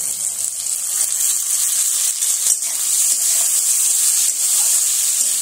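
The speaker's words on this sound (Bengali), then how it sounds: "এবার চিংড়ি মাছগুলো দিয়ে দিচ্ছি এই তেলের ওপরে।" Prawns sizzling loudly in hot oil with onion and tomato, a bright, constant hiss close to the pan with faint stirring clicks and no talking.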